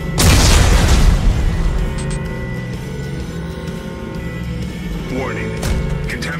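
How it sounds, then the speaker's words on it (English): Explosives detonating in the sci-fi horror game Dead Space 3: a heavy, loud boom opens, then a rumbling decay with a lingering hum and a short electronic chirp near the end. "Computer, arm explosives. And detonate."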